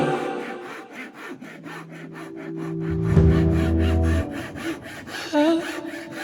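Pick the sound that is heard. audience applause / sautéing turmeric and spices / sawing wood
sawing wood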